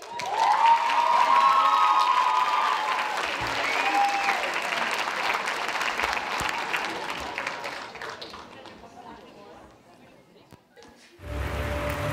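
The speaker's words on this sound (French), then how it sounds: "une bonne main d'applaudissement à Juliette Deslauriers." A crowd at a school talent show final applauds loudly, then the clapping thins and fades out before other sound starts at the end.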